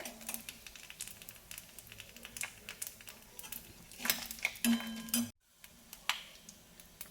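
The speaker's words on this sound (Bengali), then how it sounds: "লঙ্কাগুলো একদম ভাজা ভাজা হয়ে গেছে" Dried red chillies and torn bay leaves frying in a pan, a soft crackling sizzle with light clinks of a stirring utensil, brief pauses between bursts, no voices.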